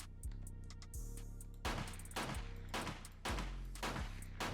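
Pipe pistol shots in the survival game 7 Days to Die, Alpha 20: several loud, sharp gunshots fired one at a time at irregular intervals, each with a short ringing tail, alone with no talking.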